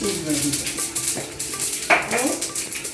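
A utensil scrapes and knocks against a pan in short, uneven strokes as vegetable stalks are stirred over fried hilsa fish, with a faint sizzle underneath and muffled voices nearby.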